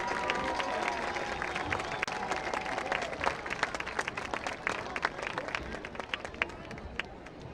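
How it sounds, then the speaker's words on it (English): A crowd at a high school homecoming football game between Colerain and Sycamore applauds steadily. Dense, sustained clapping is heard from a distance, with a faint hum of voices underneath. "Let's give a round of applause for 2019 candidates and representatives."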